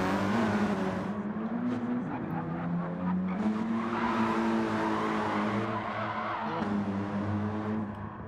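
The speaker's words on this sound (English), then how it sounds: "He's trying to drift his front wheel drive Sirocco" A front-wheel-drive Scirocco drifting in a racing video game, with a continuous engine drone and tyre squeal that rises and falls, steady and moderately loud, with faint commentary underneath.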